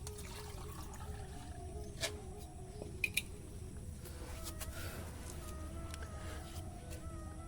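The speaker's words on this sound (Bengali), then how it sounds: "চলো এরপর আমরা জল দিয়ে দেবো গাছে" Water is poured over a newly planted kath champa tree, making a faint, steady trickle and splash that runs throughout, with a few small knocks.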